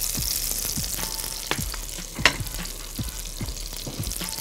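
Garlic fries in olive oil in a pan with a steady close sizzle, broken by repeated soft scraping strokes of stirring.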